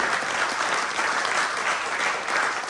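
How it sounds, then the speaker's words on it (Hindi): A theatre audience claps loudly and steadily throughout, a dense, unbroken wave of applause at a live Hindi comedy stage play. "भाई दूल्हे के लिए जोरदार ताली हो सकती है।"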